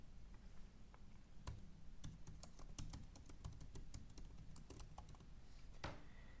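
Close keystrokes on a computer keyboard as a name is typed, irregular clicks and taps scattered across the whole stretch with short pauses between bursts, alone with no voices.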